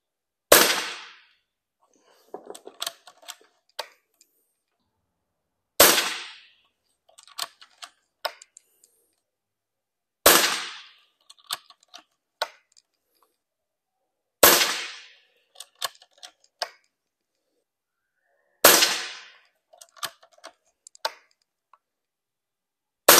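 Sharp air rifle shots firing 6.35mm pellets sound one at a time at regular intervals of a few seconds, eight in all, each followed by faint clicks and handling noises.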